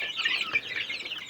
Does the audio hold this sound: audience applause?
no